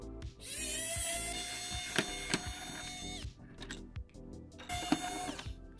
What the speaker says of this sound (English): Oh, I love the screwdriver so much.